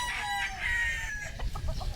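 On a farm in Masbate, chickens cluck and a rooster crows nearby, a drawn-out crow followed by short, choppy clucks over low rustling background noise.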